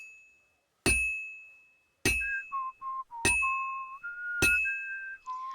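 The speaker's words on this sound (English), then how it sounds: "I wonder how Henry can stand to do this extreme, like, manual labor, all while whistling" A character in Kingdom Come: Deliverance II whistles a steady tune while doing manual labor, with sharp metallic clinks striking at regular intervals through the melody, close and clear.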